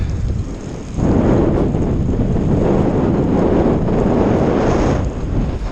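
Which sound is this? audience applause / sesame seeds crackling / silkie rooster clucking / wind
wind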